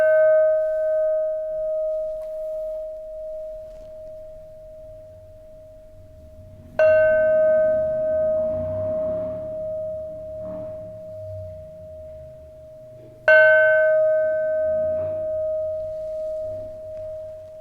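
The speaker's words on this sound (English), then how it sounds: "Oh, bells." Three separate bell strikes ring out alone, each a bright metallic onset followed by a long sustained tone that fades slowly before the next strike, the strikes spaced several seconds apart.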